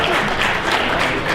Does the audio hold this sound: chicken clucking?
no